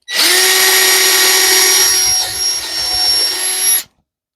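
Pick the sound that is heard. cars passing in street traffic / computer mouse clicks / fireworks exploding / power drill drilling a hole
power drill drilling a hole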